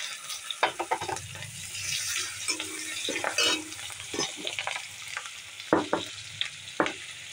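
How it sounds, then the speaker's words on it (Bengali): Onions and dried red chilies frying with panch phoron in a pan for a village-style prawn and taro dish, a steady sizzle broken by repeated scraping stirs, close and alone without any talk. "পেঁয়াজগুলো একটু ভাজা ভাজা হয়ে গেছে।"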